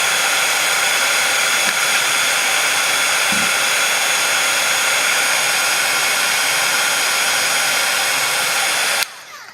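A heat tool blows steadily and loudly for about nine seconds while drying distress paint and setting ink on a sheet of paper during a craft project, then cuts off abruptly at the end.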